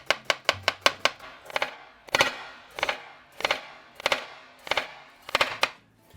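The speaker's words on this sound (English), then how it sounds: "So you get your onion flat, and we're just going to cut it nice and thin." A knife slices a flattened onion thinly on a cutting board, sharp rhythmic chops starting fast then settling into a steady, slower beat, loud and close with no talking.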